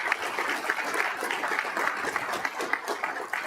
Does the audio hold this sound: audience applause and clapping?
yes